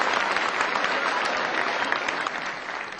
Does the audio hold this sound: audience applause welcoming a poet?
yes